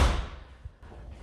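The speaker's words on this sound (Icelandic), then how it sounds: "Dyrnar á jarðhæðinni var varla hægt að opna því hurðin hafði skekst" A warped, jammed door in an earthquake-damaged house being forced, one heavy close thud at the start, then a fainter knock and a quiet rustle.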